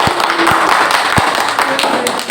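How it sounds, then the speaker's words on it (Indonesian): A small group claps for a classroom presentation, producing a brief loud patter of hand claps with a few sharper individual slaps. "Kita beri aplaus untuk kelompok 1."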